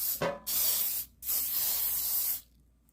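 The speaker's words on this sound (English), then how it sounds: "now we're gonna spray the pan." Two bursts of cooking spray hiss close by onto a pan, a short puff followed by a longer steady spray lasting over a second, then quiet.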